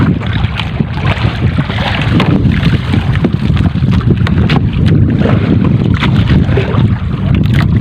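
Strong northeast monsoon wind roars continuously across the microphone over open sea, loud and close, mixed with the rumble of a fishing boat and splashing waves.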